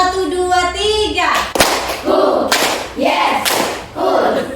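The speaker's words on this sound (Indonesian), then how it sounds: "Tepuk 1, tepuk 2, yes. Tepuk 3, tepuk 1, 2, 3," Schoolchildren in a fifth-grade classroom doing a chanted clapping game, with sharp group claps landing between bursts of chanting voices, the hand claps close and loud in a rhythmic sequence.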